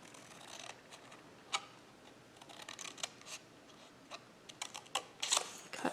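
Big scissors snip through card for a slim line card kit, a string of quiet crisp cuts and clicks coming in irregular bursts, close and faint, with no voices.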